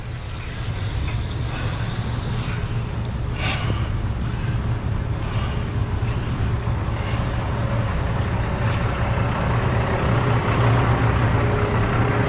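A truck hauling wood chips drives on the road, heard from inside the cab as a steady, loud engine drone with road rumble that holds constant throughout.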